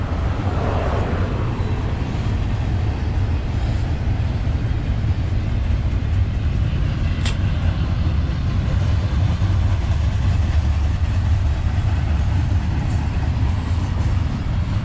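A freight train rolls along the tracks in Otero County, New Mexico, producing a steady, moderately distant low rumble that stays even throughout with no horn or talking.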